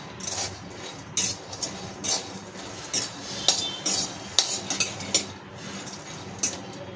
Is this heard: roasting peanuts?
yes